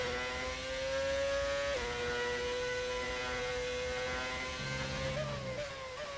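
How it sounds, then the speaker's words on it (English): A Formula 1 car engine in an F1 racing game holds a steady high-pitched whine, with a sharp drop in pitch at an upshift and rising revs near the end, loud and continuous with no talk. "Car sounds unreal. Like the prime Formula 1 days."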